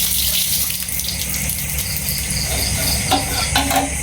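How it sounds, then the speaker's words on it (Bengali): Night chorus of insects or frogs in a rural yard, a steady dense high buzzing trill that runs unbroken and fills the background, with faint splashing water underneath. "ব্যাঙের ডাকগুলা শুনতে পাইতেছেন কিনা একটু কমেন্টে জানায়েন আপনারা"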